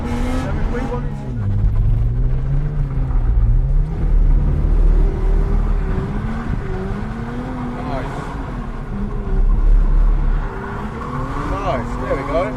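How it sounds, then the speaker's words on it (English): A drift car's engine revs on a track, rising and falling in loud sweeps as the throttle is feathered through a slide, with a steady rumble beneath and a voice talking over it. "Come off the throttle, catch the wheel back on the throttle. See how I'm not just sitting with a constant rev."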